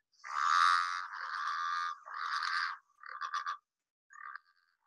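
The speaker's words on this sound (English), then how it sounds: "Now, they are a growling grass frog." Recorded call of a growling grass frog: a loud, rasping, drawn-out growl followed by shorter pulsed bursts and a final brief croak, heard alone and up close in otherwise near silence.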